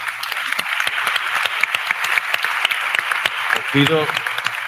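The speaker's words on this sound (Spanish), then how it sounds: "Un aplauso para..." An audience at a private equity conference session applauds with sharp, distinct claps in a steady patter, and a voice briefly speaks over it near the end.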